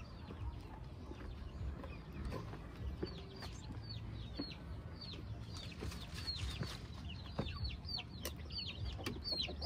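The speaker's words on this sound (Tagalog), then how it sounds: "So dito naman tayo sa ating mga sisiw." Chicks and hens on a farm, with repeated high peeping cheeps and low soft clucking in a busy steady chorus, moderately close and quiet, over faint background rustle.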